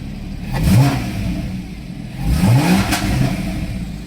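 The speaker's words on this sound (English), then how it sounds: "Give it a rev." A cold Porsche 981 Cayman S engine revs twice, each rise climbing and falling back to a steady idle, loud and close with no talking.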